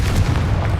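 A Confringo fire spell blasts in Hogwarts Legacy inside a decayed catacomb, giving a single loud, booming burst that rumbles heavily in the low end for under a second.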